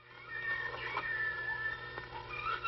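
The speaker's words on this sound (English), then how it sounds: "That's just a little baby lion." A little lion cub gives a soft, plaintive meowing cry, faint and brief, with a couple of short wavering calls over a quiet background.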